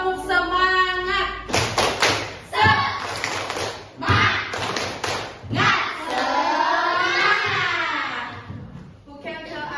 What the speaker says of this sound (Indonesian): Kasih tepuk semangat.